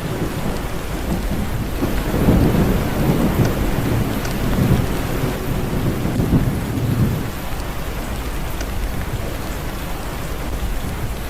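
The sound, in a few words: rushing flood water roaring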